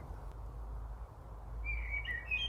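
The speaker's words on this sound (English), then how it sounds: "this beautiful bird is like really getting into this conversation" Outdoors, a single bird sends out a few thin, bright chirps near the end, faint and some distance away, over a low steady rumble of background noise.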